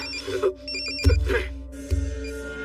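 An electronic telephone ringtone chirps and rings, cut by a couple of dull thuds, with no one speaking.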